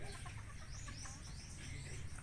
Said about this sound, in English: We got the chickens.